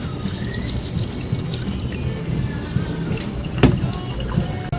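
Berries rinsed under a running kitchen tap during bar prep: a steady, close splashing rush of water, continuous for about five seconds with a brief louder splash near the end.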